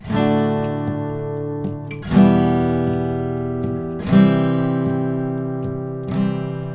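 Four strummed guitar chords of a verse of a song, each struck once and left to ring for about two seconds before the next stroke.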